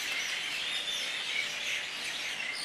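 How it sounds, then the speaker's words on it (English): Dense chorus of birds chirping and twittering on a Hawaii university campus at dusk, a continuous bright busy layer of many overlapping calls, fairly loud and steady with no speech. "I'm listening to the birds. Can you hear all that? Very noisy."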